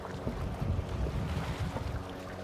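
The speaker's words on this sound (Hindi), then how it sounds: "इन मशीन वाली जो बोट्स हैं इनके सख्त खिलाफ़ हूँ" Motorboat passing on Upper Kachura Lake in Skardu, Gilgit-Baltistan, heard as a steady low engine rumble with water and wind noise throughout, close and continuous with no talking.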